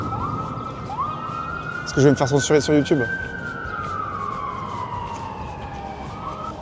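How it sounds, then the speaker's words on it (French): A police siren on a San Francisco street wails in a long rising and falling sweep over steady traffic noise, with someone speaking French in the foreground. "Avec la sirène qui vous rappelle tous les films hollywoodiens."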